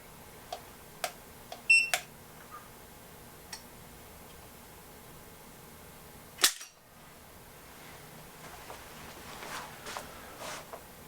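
A Smith & Wesson 5943 SSV pistol under a trigger pull test gives quiet, sparse metallic clicks and ticks, then one sharper snap of the hammer falling midway, followed by faint handling noise.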